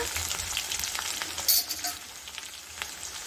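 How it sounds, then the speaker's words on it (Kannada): Mustard seeds, garlic and onion sizzle steadily in hot oil in a pan, a close, continuous hiss with scattered pops and crackles throughout while a drumstick and brinjal curry is cooked. "ನೋಡಿ ಎಣ್ಣೆ ಚೆನ್ನಾಗಿ ಬಿಸಿಯಾಗಿದೆ ಈಗ ನಾನು ಸ್ವಲ್ಪ ಸಾಸಿವೆನ ಹಾಕ್ಕೊಳ್ತಾ ಇದ್ದೀನಿ"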